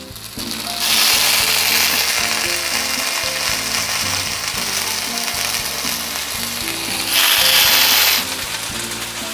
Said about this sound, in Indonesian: Selanjutnya ayamnya akan saya bakar ya teman semua